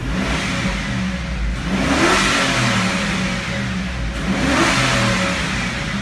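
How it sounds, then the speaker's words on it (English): Revving of a 6.0 LQ4 V8 in a 2004 GMC Yukon Denali, two swelling rev pulses rising from a steady rumble and falling back, close and loud with no talking. "Gonna give this one a couple revs,"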